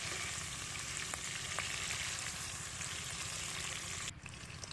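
Olive pickle stir-fries in a pan over a home stove, a steady close sizzle with a few faint stirring clicks, dipping briefly near the end, and no voices.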